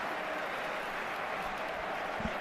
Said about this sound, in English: The crowd appreciates the effort